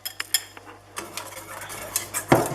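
A utensil stirs a mixture into milk in a pot over low heat, with sharp metallic clinks and scrapes against the pot at an uneven rhythm, close and fairly loud.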